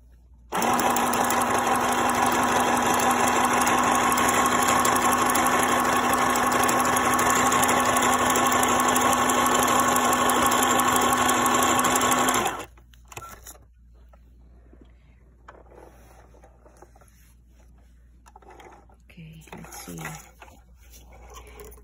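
A New Home Janome mini sewing machine runs with a steady, buzzing motor whir for about twelve seconds, then cuts off sharply. Faint handling noises follow in the quiet afterward.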